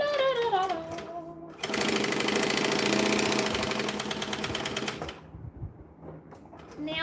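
A sewing machine chain stitches a bag in a fast, steady mechanical clatter lasting several seconds, loud and close, with a woman's sung humming before it starts and quieter handling sounds after it stops.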